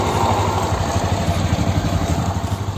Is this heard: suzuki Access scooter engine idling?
yes